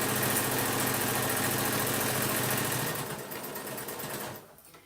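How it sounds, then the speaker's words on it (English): A sewing machine runs steadily, stitching just inside a serged edge on terry cloth for a sandwich wrap, a close, loud, continuous whirring hum that slows and fades near the end. "sewing right inside that serged edge"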